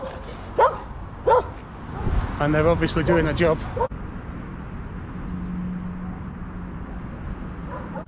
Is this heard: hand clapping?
no